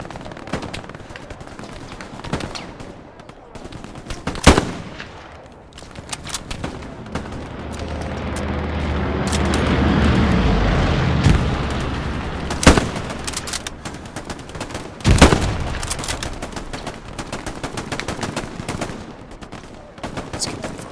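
Gunfire in the WWII shooter Hell Let Loose: steady crackle of distant rifle and machine-gun fire runs throughout, with a few sharp, louder nearby shots standing out and a low rumble building in the middle.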